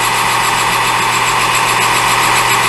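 A metal lathe running at about 800 RPM gives a steady, loud mechanical whine and hum with a constant drone, close by and unbroken, with no talking.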